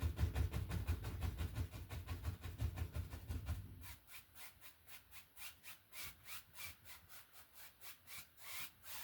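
A 1-inch paintbrush dabs light-colored paint onto canvas for a snowy autumn landscape, opening with a loud, close scrubbing of bristles and then settling into a steady run of quick, soft, evenly spaced taps.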